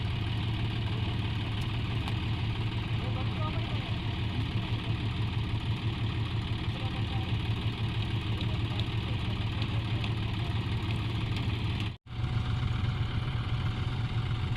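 A tractor stuck in the ground sits idling nearby, a steady low engine rumble that holds unchanged throughout with one brief dropout, no voices over it.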